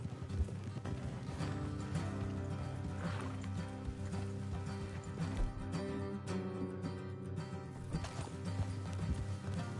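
Horse hooves clip-clop steadily in Red Dead Redemption 2 as riders travel along a road, a continuous rhythmic clatter mixed with game ambience and music.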